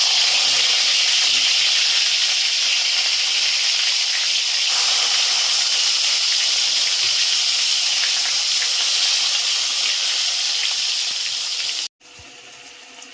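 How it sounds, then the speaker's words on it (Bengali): Eggplant pieces slide into hot mustard oil tempered with black cumin and green chilli, giving a loud, continuous broadband hiss and sizzle that holds steady and then cuts off abruptly near the end. "তেল গরম হয়ে গেছে, এবার আমি বেগুনগুলো একটু আস্তে আস্তে ছেড়ে দেবো"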